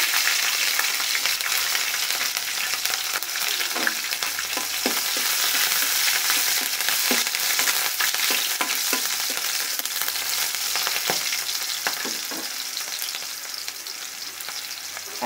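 Cumin seeds and green chillies sizzle and crackle steadily in hot oil in a pan, a continuous loud frying hiss with occasional sharper pops and stirring scrapes, no voices.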